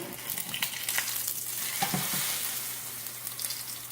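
Pork chops with a parmesan crust fry in a pan, giving a steady, close sizzle with soft crackles and a few brief pops; no one speaks.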